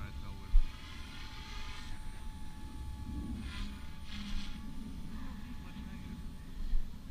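An Oxy 3 radio-controlled helicopter flies outdoors at moderate distance with a steady, thin whirring whine that rises and falls slightly, and faint voices can be heard talking through it.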